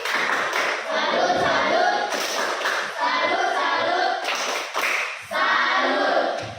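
Students in a classroom doing a rhythmic group clap salute, bursts of patterned claps and hand slaps with short pauses between, with voices mixed in.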